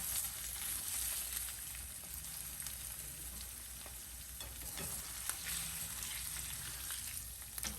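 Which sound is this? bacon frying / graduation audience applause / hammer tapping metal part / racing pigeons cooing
bacon frying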